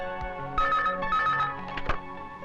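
A telephone rings with steady tonal pulses over a music-backed film scene about booking a hotel room, fairly close and with no talk over it.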